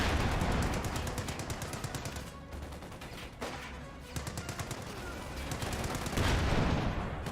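A Company of Heroes 2 artillery barrage on a flak emplacement pounds away in dense, rapid blasts that come in loud volleys, dip briefly, then build again.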